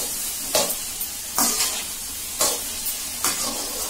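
Manchurian pieces roasting in a pan with soy sauce, giving a steady sizzle broken by four regular bursts of stirring and scraping about a second apart, close and alone.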